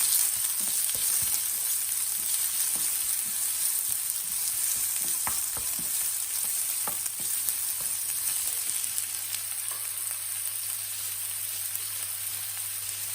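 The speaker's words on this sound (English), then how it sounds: "I'm adding onions. This is half a medium onion I have taken." Half a medium onion fries for tadka dal, giving a steady, dense sizzle close by, with faint scattered crackles and light stirring ticks and no talking.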